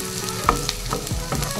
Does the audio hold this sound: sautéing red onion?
yes